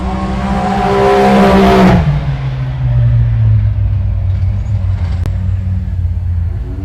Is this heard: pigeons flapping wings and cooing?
no